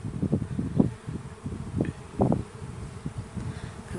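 A honeybee afterswarm hums as it settles, a steady close buzz with individual bees zipping past in short louder bursts, no voices present.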